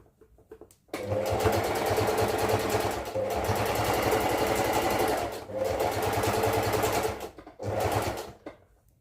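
Sewing machine stitching fabric with elastic, a close, fast mechanical whirring run in three long bursts separated by short pauses, then a brief final run, with no talking over it.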